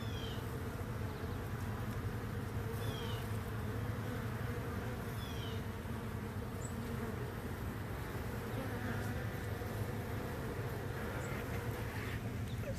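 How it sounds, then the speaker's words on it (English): A steady, dense buzzing of many honeybees during a hive removal fills the air, with a constant low hum underneath and no voices. "I'm about to start vacuuming these bees out of the way so I can cut the comb out"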